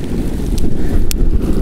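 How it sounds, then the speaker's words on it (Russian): Loud, rumbling wind buffets the microphone outdoors while cooking fish soup, throughout, with a couple of brief sharp knocks standing out. "Ветер вообще ужасный. Ветер сдувает."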